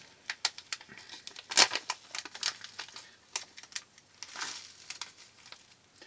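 A packet of salt and lime Salteez is torn open up close, giving a run of irregular crinkly plastic rustles and sharp snaps and ticks, alone with no talking.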